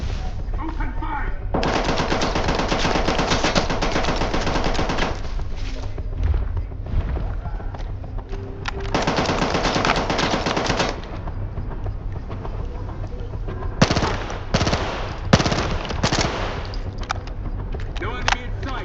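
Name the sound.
machine gun fire in the video game S.T.A.L.K.E.R. 2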